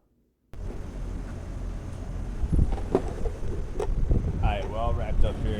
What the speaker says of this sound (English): it's just ridiculously windy